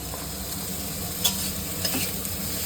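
Garlic dropped into a hot cooking pan gives a soft, steady sizzle with a couple of brief stirring clinks, fairly quiet and without any talking.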